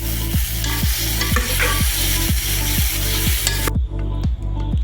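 Chickpeas being stirred into a sizzling paste of chilli powder and curry powder in a pan for kadala curry: loud, steady frying hiss with a regular scraping stroke about every half second, no voices.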